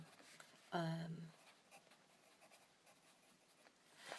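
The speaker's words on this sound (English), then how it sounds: "Let me just very, very quickly write this down." A pen writes something down quickly, faint scratchy strokes close by in a quiet room after a brief voiced sound at the start.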